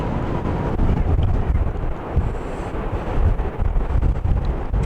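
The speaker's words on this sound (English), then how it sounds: "it's very, very, very windy" Strong wind at the seaside at Dunbar, Scotland, buffets the microphone in a constant, heavy low roar, with a faint wash of surf from raging waves mixed underneath.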